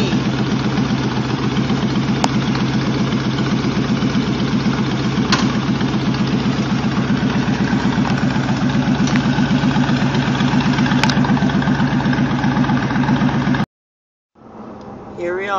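A motorcycle engine idles in a steady, even rumble for about thirteen seconds, then cuts off abruptly.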